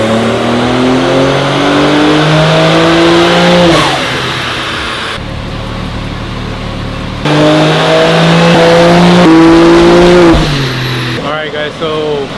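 A tuned BMW M3 (G80) engine revs hard and loud on a dynamometer, making a weird noise, climbing and dropping in pitch through several sustained pulls, with brief lulls between them.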